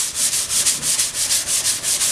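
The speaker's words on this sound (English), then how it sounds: "When you're sanding on the blade, you want to make sure that you stay going lengthwise" Sandpaper rubbed by hand lengthwise along a steel handsaw blade during restoration, about ten even, rhythmic strokes, close and steady with no talking.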